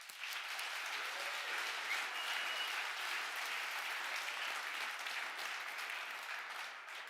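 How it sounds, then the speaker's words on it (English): Sustained applause from a sizable audience at a hackathon closing ceremony, dense and even throughout, steady clapping with no voices standing out. "one big round of applause for all of them, please"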